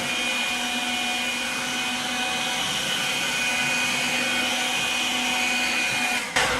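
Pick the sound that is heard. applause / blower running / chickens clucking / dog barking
blower running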